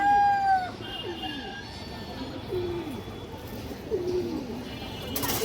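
Red-barred pigeons, a pair of large birds kept for sale, give soft low cooing calls at moderate distance, with a few sharper bird calls and a faint background hum.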